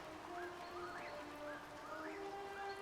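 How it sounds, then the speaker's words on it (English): Rain in Dragon Age: Inquisition patters softly and steadily, a quiet hiss of falling drops under faint tonal music, with no voices. "It feels like the rain is only like a few meters away, right?"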